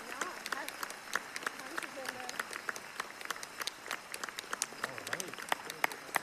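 A cheering section at a December 2023 university graduate commencement claps in scattered, uneven bursts, fairly faint and distant, with a voice speaking briefly over it.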